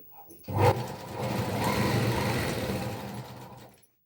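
Sewing machine running steadily for about three seconds while stitching a half-inch shoulder seam on a small girl's petticoat, a continuous close whirring hum that starts abruptly and stops cleanly, with no talk.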